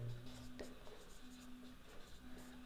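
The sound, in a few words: writing down the model's total height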